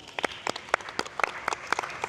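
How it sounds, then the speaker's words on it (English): Sparse, rhythmic clapping for a guest at an online fireside chat, a few hands striking in quick, evenly spaced bursts with no crowd roar. "everybody help me give a round of applause to Ubong."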